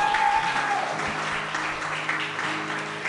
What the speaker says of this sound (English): How about a big round of applause, everybody, here at Ka Waiwai and around the world